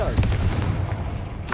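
A Confringo fire spell goes off in the Hogwarts Legacy video game, making a heavy booming blast with a rumbling tail and a sharp second burst at the end.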